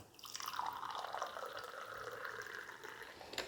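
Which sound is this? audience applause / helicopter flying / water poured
water poured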